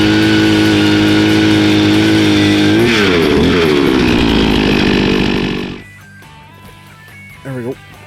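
A gas-powered ice auger drills a fishing hole through the frozen surface of Lake Poygan in winter. The engine roars loud and close, straining and revving, then cuts off into quieter background with a brief sound near the end.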